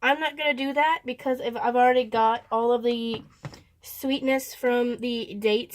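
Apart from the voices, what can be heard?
None of the usual background noises is heard.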